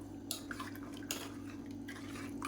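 A spoon stirs curd into black kavuni rice porridge in a pot, giving a few soft scraping clinks and wet squishing strokes close by over a steady low hum.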